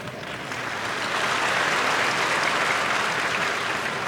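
An audience at a conference breaks into sustained applause, building within the first second into a dense, even wash of clapping that holds loud and steady to the end.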